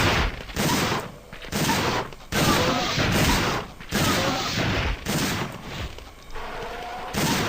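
Shotgun blasts hitting small raptors in Dino Crisis 2, a series of loud, booming shots spaced roughly a second apart, each with a short crackling tail and brief gaps between them.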